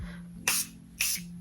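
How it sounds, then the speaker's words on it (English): Morphe Continuing Mist setting spray misted onto a face: two short, close pump sprays with a hissing burst each, separated by a brief pause over a low steady hum. "I'm just going to spray it all over my face."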